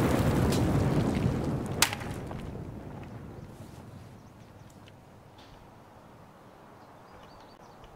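A grenade blast in a tactical shooter game, set amid an enemy patrol with players hidden in ghillie suits: a loud, broad rumbling explosion with a sharp crack near two seconds, then a long decaying roar that fades into low ambience.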